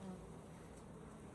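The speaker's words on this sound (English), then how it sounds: "I'm going to shake these bees off. Brush these bees off my hand." Caucasian honey bees buzz in a faint, continuous hum, close by and quiet, with no talking, as they are brushed off a hand.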